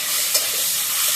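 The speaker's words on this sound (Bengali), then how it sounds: "এই যে ইলিশ মাছের তেলটা তেলে দিয়ে দিলাম" Hilsa fish oil sizzles steadily in a frying pan while being stirred, a continuous close hiss with a brief scrape of stirring partway through.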